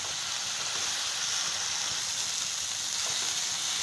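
Garlic-ginger paste frying in a spiced masala in a pan, a steady, even hiss and sizzle close by with no breaks.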